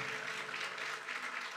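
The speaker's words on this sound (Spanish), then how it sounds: "Dale un aplauso a Dios" A brief burst of congregational applause during an evangelical church service, a broad, continuous wash of many hands clapping together at a steady level without any single voice rising above it.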